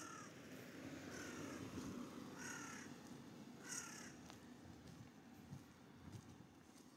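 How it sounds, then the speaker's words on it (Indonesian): Several crows caw in short rasping bursts over steady wind and a low background rumble, moderately distant outdoors in a Japanese village near a shrine. "Di sini banyak burung gagak teman-teman."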